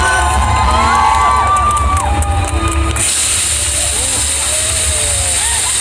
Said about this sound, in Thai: เสียงปรบมือดังๆด้วยครับ